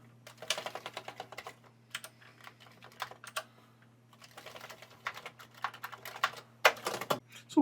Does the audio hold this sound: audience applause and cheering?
no